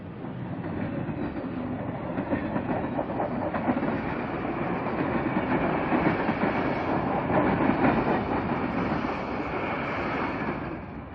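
An Amtrak Wolverine diesel passenger train pulls into a station and slows to a stop, giving a steady broadband rumble with rail clatter and wheel noise that holds at a fairly loud, even level for the whole stretch.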